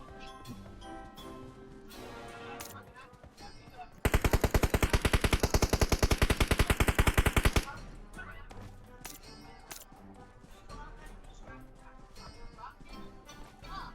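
Rapid automatic gunfire in the mobile battle royale game PUBG Mobile erupts in a long, loud sustained burst of evenly spaced shots, framed by quieter scattered in-game sounds and a voice talking before and after.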